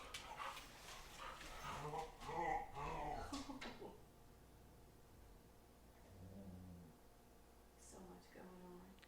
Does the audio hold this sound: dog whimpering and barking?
yes